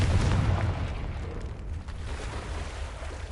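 A Confringo blasting spell bursts in the Hogwarts Legacy video game, a loud, deep explosive boom at the start that settles into a sustained low rumble and crackle for several seconds.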